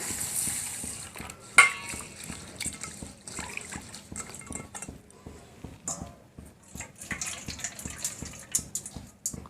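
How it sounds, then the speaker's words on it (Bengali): Mung dal lentils being washed by hand in water, with steady sloshing, swishing and dripping close by, a brief louder splash early on, and no talking. "এখন ডালটা জল দিয়ে ধুয়ে নিচ্ছি।"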